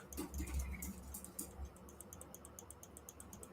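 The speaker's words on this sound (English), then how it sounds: "Million clicking noises." Faint computer clicking, a few scattered clicks and a soft thump at first, then a quick regular run of small ticks close by, quiet throughout with no speech.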